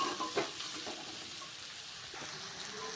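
Flattened rice is stirred into fried vegetables for chirer polao, a soft close sizzle with light scraping strokes, louder at the start and settling to a quiet frying hiss.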